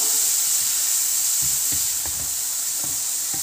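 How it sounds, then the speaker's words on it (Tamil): Carrots sautéing in ghee in a pan give a steady, bright sizzle throughout, with soft stirring scrapes and clicks breaking in now and then over the hiss. "எல்லா கேரட்டையும் போட்டு வந்து வதக்கிக்கலாம்"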